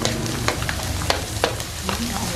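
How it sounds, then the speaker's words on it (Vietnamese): Nui pasta snack frying in hot oil, a steady sizzle with occasional sharp pops and crackles throughout. "Mình bỏ miếng nuôi mình chiên từ từ nha các bạn"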